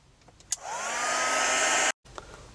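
A heat tool drying ink on an art card whirs on after a click, a steady loud blowing hum that holds for over a second before cutting off abruptly, then a quiet tap follows.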